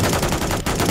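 Turret gunfire in Call of Duty Modern Warfare III, a continuous loud, rapid stream of heavy automatic shots with a tiny break near the end, alone without speech.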